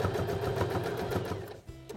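A sewing machine stitches a backpack panel, running in a steady, close, fast mechanical rhythm before it briefly slows and stops near the end.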